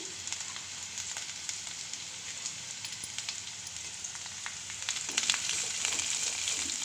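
Sliced okra (bhindi) for a masala curry sizzles steadily in a pan, a continuous close crackle of frying with a slight rise in intensity near the end, with no talk.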